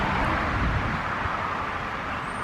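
A steady roadside rumble of passing cars and vehicles, a broad continuous wash of traffic noise at moderate distance.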